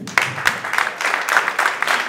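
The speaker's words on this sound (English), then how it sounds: "Here, applause please" An audience at a startup pitch competition event bursts into close, lively applause, with a crisp patter of many hands clapping unevenly for about two seconds.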